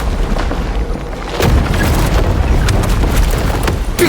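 A breakable wall is blasted apart in a video game, a deep rumbling boom swelling up after a second and rolling on loudly to the end, with no talk over it.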